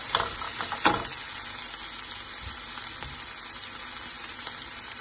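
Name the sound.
tomatoes and chillies frying for Goan prawn chilly fry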